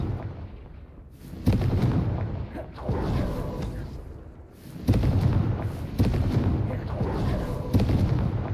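In the wizarding game Hogwarts Legacy, the Confringo blasting curse sets off a run of heavy booming explosions in bursts, loud and rumbling, with a voice speaking between blasts.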